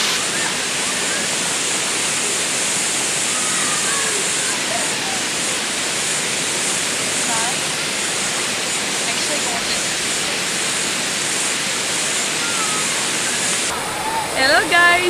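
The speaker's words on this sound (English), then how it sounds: "so we just arrived at the waterfall" A waterfall in the Byron Bay hinterland roars steadily and loudly throughout, a dense constant rush of falling water, with faint voices briefly audible near the end.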